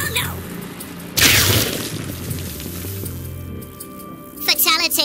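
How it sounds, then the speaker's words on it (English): A grenade detonates in the video game Worms WMD with one loud, sharp blast that trails into rumbling debris. Excited talk runs over the game sounds before and after it. "Grenade!"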